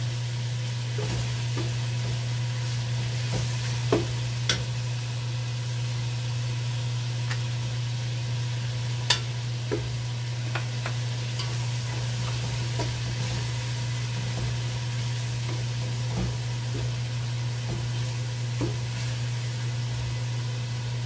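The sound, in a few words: shrimp paste (alamang) frying and stirred in a pan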